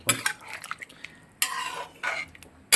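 A spoon stirs a Kerala-style chicken stew with milk in a pot, giving a few scraping and clinking strokes against the metal, close by with short pauses between them and no talk.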